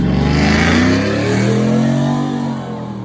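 A car engine revs loudly close by and passes, its sustained growl rising and then easing off over about three seconds at an outdoor protest outside a Tesla dealership.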